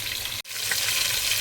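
Whole spices crackle and sizzle in hot oil for chicken tikka biryani, loud and close, with a brief break in the hiss near the start before it resumes.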